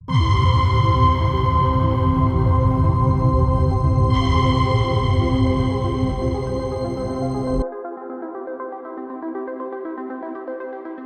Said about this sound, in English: I have done this on this arpeggiated pluck sound, where the filter opens up slowly over time